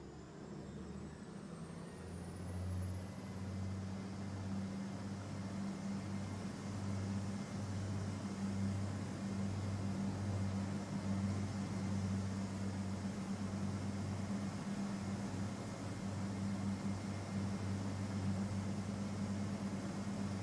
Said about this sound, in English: about to depart now is the 1408 TransPennine Express service to Manchester Airport